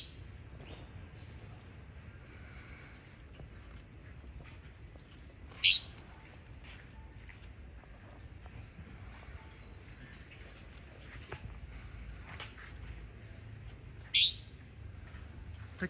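A red-whiskered bulbul of the Indonesian red-cheeked type, a male, gives two short, bright chirps several seconds apart over a quiet, faintly rumbling background.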